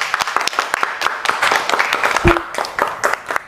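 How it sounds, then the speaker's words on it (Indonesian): A small group claps in quick, uneven bursts for a participant during a study tour presentation, close and fairly loud, with a brief voice cutting in partway through. "Tepuk tangan buat Rifan."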